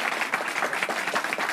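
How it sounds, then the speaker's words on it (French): A studio audience on a French-language football talk show breaks into brief, steady clapping, a short burst of many hands at moderate volume. "on peut applaudir"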